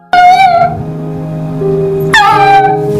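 A small dog cries and whimpers in rising, tonal wails, a long plaintive whine followed by a second cry after a pause, fairly close and alone without talk.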